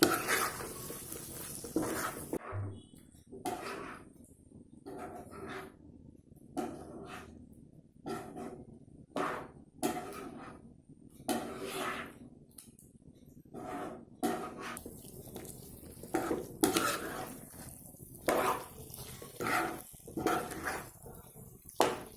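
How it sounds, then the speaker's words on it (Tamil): Chicken gravy masala paste with a little added water is stirred in a pan, giving repeated scraping and clinking bursts of a utensil against metal in an irregular rhythm, close and fairly quiet. "நல்லா சமமாக அந்த பேஸ்டெல்லாம் இதில் கலக்கிற மாதிரி நல்லா கிளறி விடணும்."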